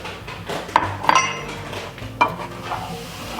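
Venison browning with onions in a pan, a soft continuous sizzle under a few close metallic scrapes and clinks of a utensil stirring against the pan.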